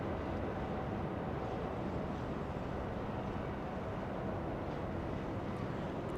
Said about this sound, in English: It should be on Nippon Airways, and there it goes. A 777 using 25 right for departure, flying to Tokyo, Japan.